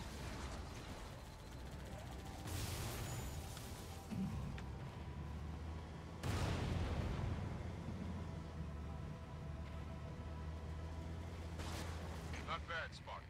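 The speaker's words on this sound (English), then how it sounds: "I saw that explosion from orbit." Explosions in the video game Halo 3, deep booming blasts with rumbling aftermath, loud bursts near two, six and twelve seconds over continuous heavy low rumble and battle noise.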